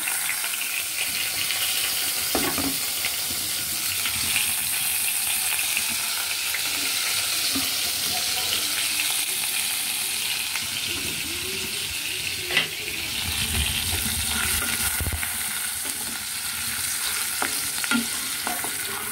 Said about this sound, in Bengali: পেঁয়াজ বাটা দিয়ে হালকা একটু নাড়াচাড়া করতে হবে।